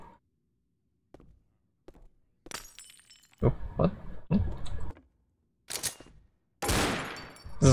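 Glass shatters in the Left 4 Dead campaign Night Terror: Haunted Mansion, a few loud crashing bursts with scattered impacts and debris, while a person speaks briefly.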